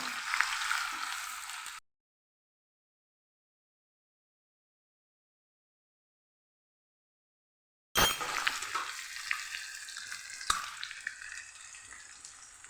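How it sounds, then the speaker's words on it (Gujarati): Potato slices frying in a pan while being stirred for a fasting-style potato dish: a close, steady crackling sizzle with light scraping, cut off by a long silence, then resuming with occasional sharper clinks. "આપણે એને ફેરવતા ફેરવતા એને સરસ પકાવવાની છે ઉપર નીચે કરીને"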